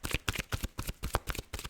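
Oracle cards being shuffled by hand, a rapid run of close, crisp riffling slaps and flutters in quick bursts, with no talking over them.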